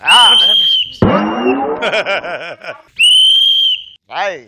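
Shrill, sustained whistles ring out twice at a Telugu TV comedy stage show as performers are welcomed, with loud cheering and shouting between the two blasts.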